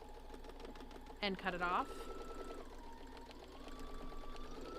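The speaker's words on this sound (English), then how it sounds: "now I'm going to stitch this corner" A sewing machine runs steadily while stitching the corner of a boxed bag, a continuous whirring hum under a speaking voice, with a short burst of cutting noise partway through.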